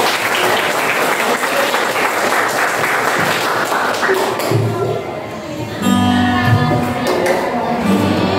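Dense applause from a classroom audience fills the space for several seconds after a guitar-carrying teacher is introduced, dipping briefly midway, then surging again with a few voices and cheers mixed in.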